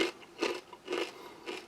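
Close, crisp crunching of BBQ corn nuggets from a US Army First Strike ration, four rhythmic chewing bites about half a second apart with no talk.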